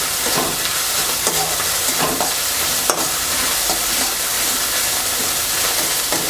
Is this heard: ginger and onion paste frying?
yes